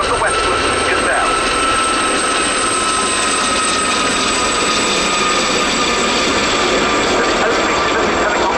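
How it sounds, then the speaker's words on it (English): Four Westland Gazelle helicopters of the Gazelle Squadron civilian display team fly at an RAF Cosford airshow, their steady rotor and turbine drone filling the air continuously at moderate distance. "Gazelle Squadron display team, for example, of the Westland Gazelle"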